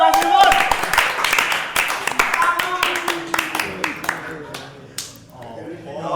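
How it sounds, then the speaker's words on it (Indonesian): Audience applause for a guest on an Indonesian talk show: a dense burst of hand claps and sharp taps that thins out into scattered claps, with voices talking over it. "Oke, tepuk tangan untuk Mas Limon"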